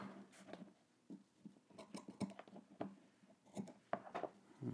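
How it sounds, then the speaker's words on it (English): Scissors snip fabric corners while sewing a pair of shorts from a Simplicity pattern: a quiet run of separate close cuts in an uneven rhythm, with no talk. "I'm just going to just trim these corners just a bit."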